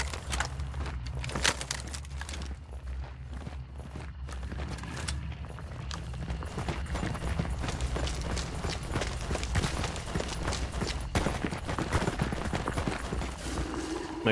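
Rapid gunfire from a Sparks rifle in a shooter video game: a steady stream of sharp shots and bursts over a constant low rumble, with faint talk underneath.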